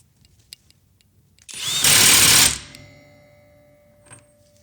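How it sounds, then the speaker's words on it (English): A Hercules Gen 2 cordless impact wrench bursts into a loud, close, rapid hammering for about a second as it tightens an axle nut, then stops abruptly and a fading whine trails off. "I'm going to tighten up the axle nut here with auto mode."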